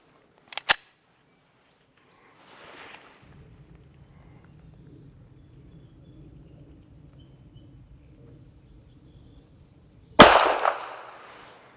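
A single sharp pistol shot from a Springfield Armory Echelon cracks at an outdoor range near the end, preceded by a faint click and a low steady hum, with no voices.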